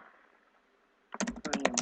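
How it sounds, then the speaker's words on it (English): Keys on a computer keyboard are tapped in a quick burst of close, crisp clicks after a moment of near silence. "Let's type it in."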